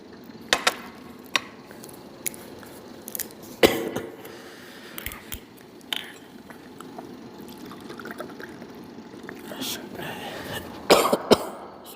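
Scattered coughs and throat clearing, close and intermittent, mixed with faint handling and liquid sounds in a quiet room.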